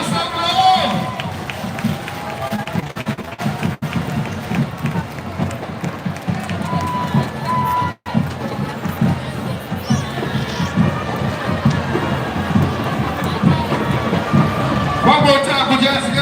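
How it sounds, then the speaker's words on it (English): A crowd applauds the Cavaliers marching band at a marching band showcase, with loud, continuous clapping and cheering. An announcer's voice talks over the crowd noise throughout. "Come on, come around with applause, man."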